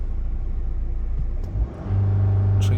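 A Chrysler Voyager diesel engine, with a suspected diesel particulate filter fault, held near 3000 RPM: a close steady rumbling drone that dips briefly, then settles back into a louder, even hum.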